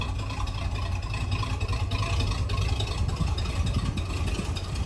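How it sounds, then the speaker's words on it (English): A 1957 Plymouth Fury engine idles close by with a lumpy cam rhythm, a continuous low throaty rumble with steady pulsing and no talk over it. "You hear that nice little cam sound in it?"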